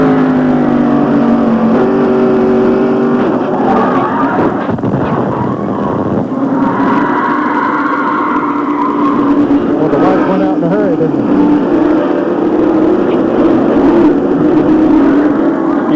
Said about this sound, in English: You could hear Dale get on the accelerator when he saw that Meacham and Gant had touched